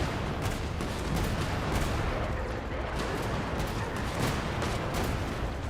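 Cannon fire from the video game Genshin Impact booms in a dense, continuous barrage of heavy blasts, loud and close with no pauses.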